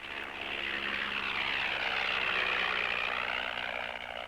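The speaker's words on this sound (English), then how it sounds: "Flying his own aircraft from a bush strip near his camp, Ian radio tracked" A light propeller aircraft flies from a bush strip near a camp in Africa, its engine droning steadily and fairly faint, swelling slightly in the middle as it passes and easing off at the end.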